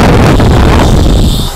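A Hoyoma 3-in-1 wet and dry vacuum cleaner runs in blower mode, giving a loud, steady, roaring rush of air close to the microphone with heavy low-end buffeting throughout.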